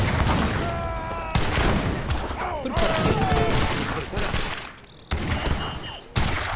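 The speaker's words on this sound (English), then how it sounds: "Organ guns do fire a pretty good volley right there." Organ guns fire a volley during a large battle in the Age of Empires 3 video game, a loud crackling burst of shots amid booms and clatter, with a commentator's voice talking over it.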